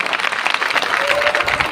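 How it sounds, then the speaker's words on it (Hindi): Steady, dense clapping from an audience at a birthday celebration for Dr. B. R. Ambedkar, a continuous crowd applause without pause. "एक बार जोरदार तालियां लगाएं जी"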